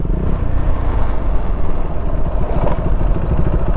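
A motorcycle, a TR390, rolls up and arrives at Lakeland Cafe: a loud, close engine rumble with some clatter, steady throughout and with no talk.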